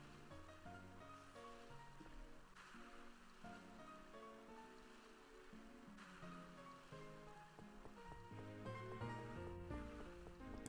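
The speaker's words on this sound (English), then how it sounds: "they lower the music volume here so you can listen to the water" Gentle water ambience washes beneath soft background music in Pokémon HeartGold, a steady low surf-like hiss that stays quiet and continuous throughout.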